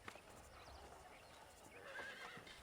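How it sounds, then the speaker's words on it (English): A horse whinnies amid clip-clopping hooves in the video game Red Dead Redemption, fairly faint and set against background ambience, with a sharper neigh near the end. "Let's see if we can't wrangle some horses."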